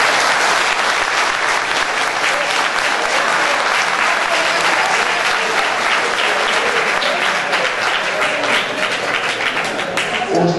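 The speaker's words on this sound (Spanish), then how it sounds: "Un aplauso para el señor presidente." An audience applauding at an official event honoring a vice president, loud sustained clapping from a large crowd filling the space without a break.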